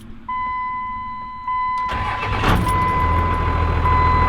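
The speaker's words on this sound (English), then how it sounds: "But this truck will start up right away" A Dodge truck with brand-new batteries starts up: a brief starter crank, then the engine catches and settles into a low, steady idle, close by, with a faint tonal hum beforehand.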